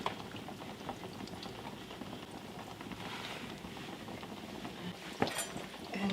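Beef rouladen braising sauce is poured and worked through a kitchen sieve, giving a soft, continuous wet bubbling and trickling with occasional small splats.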